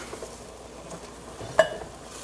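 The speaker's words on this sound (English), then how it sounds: "that needs a good stir before we start to add all our tomato products" A spoon stirring a pot of stuffed cabbage soup, a soft low scraping and faint bubbling throughout with one sharp clink against the pot near the end.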